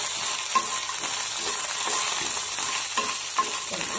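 Puffed lotus seeds (makhana) and curry leaves fry together in oil, giving a continuous close sizzle broken by soft scraping stirs and a few sharp pops.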